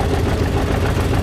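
A 1953 John Deere Model 70 tractor idles at an outdoor classic tractor parade and show, its engine a loud, steady low rumble with a rough, knocking pulse throughout the short stretch.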